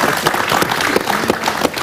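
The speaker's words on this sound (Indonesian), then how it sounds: "Tepuk tangan dong untuk Korpri." Audience applause at a public dialogue event in Central Java, honoring Korpri's 52nd anniversary; loud, close, dense clapping with scattered sharper claps, no speech on top.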